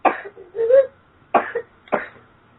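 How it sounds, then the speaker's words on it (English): A child coughs three separate times, a short burst followed by two quick ones, nearby and fairly quiet, with brief pauses between them. "Excuse that, that's my son just coughing."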